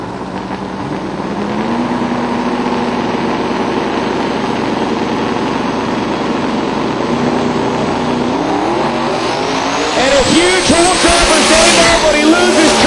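A stock-suspension drag car with a 427 engine roars at a drag strip, first idling loudly, then the engine note climbs sharply as it launches, with an announcer talking over the noise.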